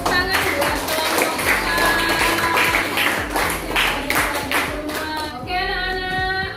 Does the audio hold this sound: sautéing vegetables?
no